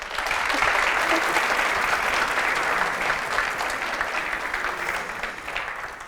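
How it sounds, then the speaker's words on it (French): Audience at a televised event applauding a guest, a thick, even wash of clapping from many hands, moderately loud and sustained, easing gradually toward the end. "Merci de l'applaudir."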